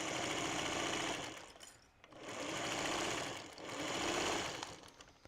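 A sewing machine stitches through several layers of fabric during bag assembly, running loud and steady in three long bursts with brief pauses between them.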